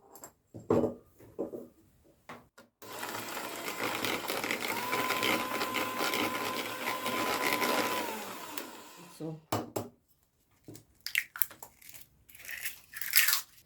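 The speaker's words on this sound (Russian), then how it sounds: "каждый раз по 2 минуты буду взбивать миксером на больших оборотах" An electric hand mixer whirs at high speed, beating eggs into creamed butter for salted caramel cupcake batter, one loud sustained run of several seconds framed by clinks and handling noises, close up with no talking.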